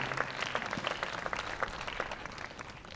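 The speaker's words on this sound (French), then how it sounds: "Merci Séverine, on peut l'applaudir bien fort aussi." Festival audience at a public hypnosis show breaking into warm, sustained applause, dense clapping from many hands at moderate distance that fades slightly toward the end.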